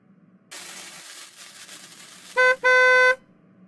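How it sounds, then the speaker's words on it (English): A car horn honks twice from outside, a short toot followed by a longer held blast, loud and clear over quiet background noise. "They're honking outside."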